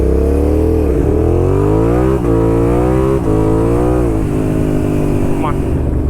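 A dirt bike engine revs loudly up close while being ridden, its pitch rising and dropping repeatedly with several quick throttle blips and gear changes.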